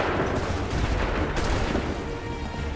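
A musket volley in Assassin's Creed III cracks out as a dense burst of overlapping shots over a continuous battlefield roar, loud and close.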